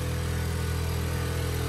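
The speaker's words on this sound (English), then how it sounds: "Sorry about the noise out there. That's the generator." Generator running outside an RV travel trailer, a steady low engine drone droning evenly and moderately loud with no variation, heard from inside with no talk.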